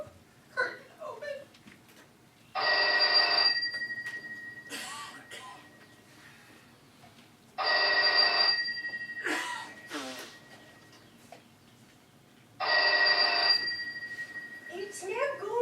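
Backstage telephone bell effect in a stage farce, three separate bursts of loud electric ringing about five seconds apart, with actors' voices, gasps and murmurs in the gaps between.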